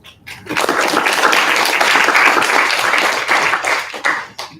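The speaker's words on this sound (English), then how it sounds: "let's give him the applause and welcome Professor Lee" An audience at a physics lecture applauds a visiting professor, a brief, loud burst of clapping that starts abruptly, holds for about four seconds and then tapers off.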